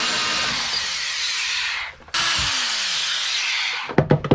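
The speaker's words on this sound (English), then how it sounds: "as soon as the point comes through, drill through from the opposite side" A power drill with a spade bit bores steadily through wood during a wooden boat restoration, with a harsh, grinding whine, pausing briefly midway, then a few sharp knocks as it finishes.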